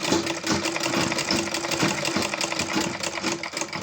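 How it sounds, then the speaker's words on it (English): A sewing machine stitches a leather wallet, its steady, rapid mechanical hum and needle clatter running continuously and close up with no talk. "Place this down easily. And we sew."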